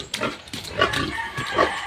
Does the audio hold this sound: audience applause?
no